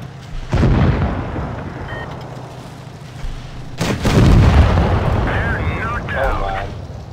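Tanks firing in World of Tanks Blitz, two heavy booming shots with rumbling decay, followed by fainter mechanical sounds and brief electronic tones.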